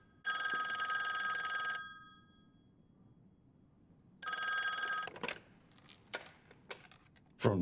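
An electronic telephone bell rings in two long bursts inside a Squid Game episode, loud and close, followed by a few scattered clicks and knocks in a quiet room.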